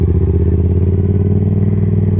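A Yamaha XSR700 cruises slowly around a neighborhood, its engine giving a steady, loud, close low drone with an even pulsing throb and no change in pace.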